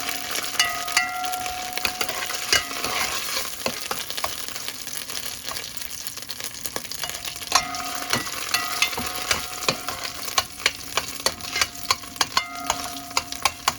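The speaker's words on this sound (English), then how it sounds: "I put the tomato paste, and I just want it to fry a little." Tomato paste fries in a pot with a steady crackling sizzle, broken by scraping and knocking as a spoon stirs it, close and moderately loud with no talk.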